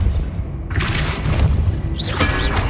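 A Depulso spell cast in Hogwarts Legacy: a sudden loud blast of magical force bursting in with a broad rushing whoosh, followed by a second sweeping burst with rising swirling tones near the end.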